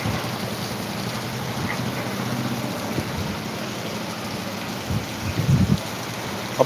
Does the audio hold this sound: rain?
yes